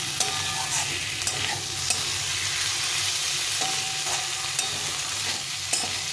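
Tomato and potato fry in a pan for a duck egg curry, a loud continuous sizzle punctuated by regular spoon scrapes every second or so, close and without any talking.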